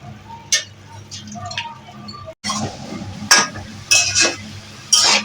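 Fried, washed mung lentils and washed masoor lentils go into a cooking pot for khichdi with a few sharp clinks and rattling pours against the metal, close and clear, while someone talks.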